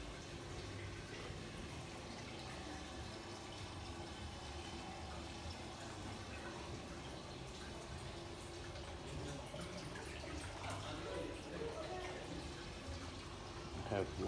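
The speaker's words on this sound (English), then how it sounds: "I have water coming from the well going down." Water running down from a fountain well beside a hotel pool in Doha, Qatar, a continuous splashing flow heard throughout with some background noise and faint activity, no clear speech.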